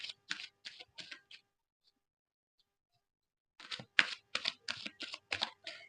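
A deck of cards shuffled by hand during a card reading: close, crisp rhythmic papery bursts in two runs, about a second and a half, then a pause, then two more seconds.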